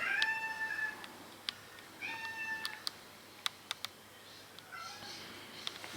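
A cat meows repeatedly in drawn-out, wavering calls, fairly close, with a few sharp clicks or taps between the cries and a steady background hiss.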